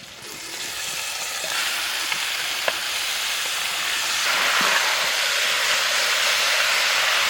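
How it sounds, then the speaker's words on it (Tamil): Meat tipped into a tomato masala frying in oil for a venison (maan kari) fry, giving a steady, loud broadband sizzle that swells after a few seconds, with a couple of faint clinks and no talk. "அடுத்து கறியை சேர்த்துக்கலாம்."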